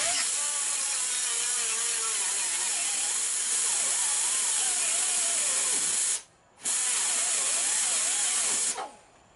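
An angle grinder screams steadily against a metal stud on a vehicle pinch weld during a snorkel fitting on a Land Rover Discovery 2, loud and close, its pitch wavering under load, cutting out briefly before spinning back up and winding down.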